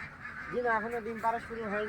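Campbell and white Belgian ducks on a farm give a quick run of nasal, honking quacks, close and fairly loud. The calls come in several short bursts with small gaps between them.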